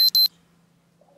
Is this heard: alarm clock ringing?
yes